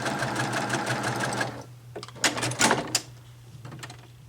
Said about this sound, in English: now I'm going to sew on that line